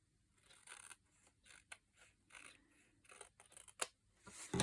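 Scissors trim a small piece of paper for a handmade zine, giving a string of quiet, close snips and crisp paper rustles in irregular short bursts with no talking.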